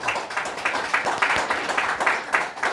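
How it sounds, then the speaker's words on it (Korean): Audience clapping at a political forum in a hall, a few seconds of sustained, moderately loud applause with an uneven rhythm and no voices. "여러분 격려 박수 한번 보내주시기 바랍니다"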